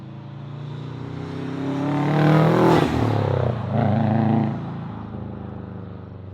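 A Subaru fitted with an Invidia downpipe drives past, its raspy exhaust rising to a loud peak near the middle and then fading as the car moves away, with no talk over it.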